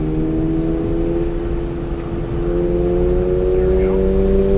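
Inside a car at full throttle on a hill-climbing track, the engine drones loud and steady with a slowly rising pitch, a continuous close-up mechanical hum that fills the cabin.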